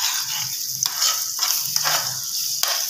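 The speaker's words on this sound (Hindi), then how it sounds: "अब जो है हम इसको मिक्स कर देंगे इस तरह से।" Egg and onion being stirred in a hot pan for a lemon egg dish, a soft sizzle under repeated scraping strokes of a spoon at an uneven rhythm, close with no talk.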